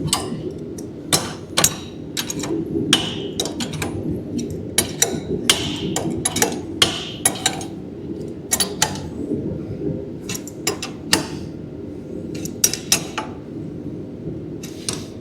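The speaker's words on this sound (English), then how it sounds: "Take us a couple of crescent wrenches and tighten it up." Tightening rear coilovers on a 1973 Ford F100 truck with a pair of crescent wrenches: sharp metallic clicks and knocks of wrench on nut, irregular and close, over a steady low mechanical background with no talk.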